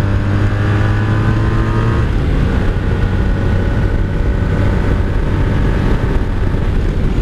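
A 1984 Honda Sabre V65 VF1100S motorcycle engine drones steadily and loudly while being ridden, a continuous deep roar with a shift in pitch about two seconds in and no one speaking.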